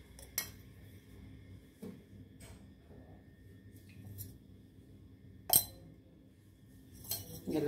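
Spices and paneer filling are mixed in a bowl for paneer cheese parota: a few sharp metal spoon clinks against the bowl, scattered over a quiet background with no talk.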